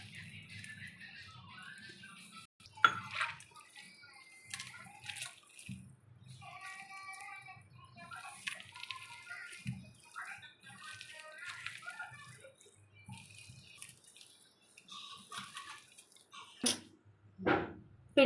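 Water poured into onion pakoda batter gives soft, intermittent trickles and splashes, with a few sharper drips near the end, under a voice talking.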